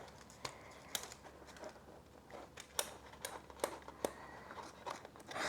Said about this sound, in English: I'm going to cut it right down.